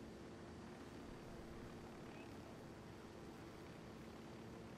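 A helicopter in the video game Ghost Recon Wildlands: a faint, constant broadband drone of rotor and engine holds steady throughout, with no talking.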